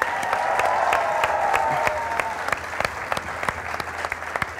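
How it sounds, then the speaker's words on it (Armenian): Studio audience applause opening an anniversary tenth episode of a sports show, a full, even wash of clapping that gradually thins into scattered individual claps. "Եկեք ծափարենք"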